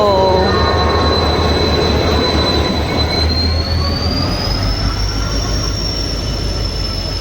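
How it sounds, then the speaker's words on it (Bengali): Passenger train pulling into a station, loud and close, with a sustained high metallic wheel squeal over the deep rumble of rolling carriages. "ফাইনালি ট্রেনটা এলো"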